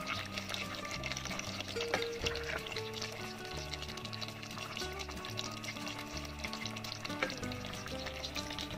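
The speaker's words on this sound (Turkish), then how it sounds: "Bunu karıştıracağım şöyle hafif birazcık." A leek dish with olive oil and celery leaves is gently stirred in a pan, giving a soft continuous sizzle of frying under background music.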